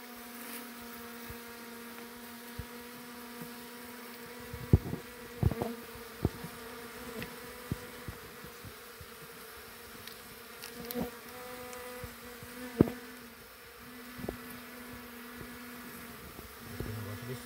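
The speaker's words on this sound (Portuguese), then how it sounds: "Barulho dessas abelhas no meu ouvido, você tem?" Honeybees buzz steadily during a honey harvest and hive rescue, a faint, sustained hum with individual bees whizzing close by now and then.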